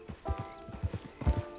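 Horse hooves clip-clop at a steady walking pace in the Red Dead Redemption 2 game world, several distinct close thuds in rhythm, with a low game tone humming underneath.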